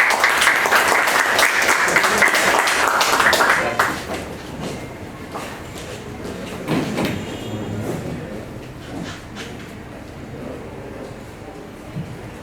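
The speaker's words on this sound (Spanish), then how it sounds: "lo recibimos nuevamente con un fuerte aplauso" Audience at a book presentation and colloquium gives loud sustained applause for about four seconds, which then fades into quiet room noise.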